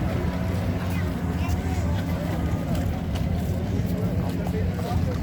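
Army vehicles at the 2019 Kingman, Arizona air show give off a continuous low engine rumble mixed with outdoor crowd noise, steady and moderately loud throughout.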